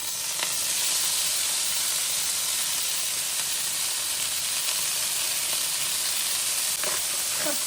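Beef pieces fry in hot olive oil with a loud, continuous, even sizzle, joined by a few faint clicks from stirring.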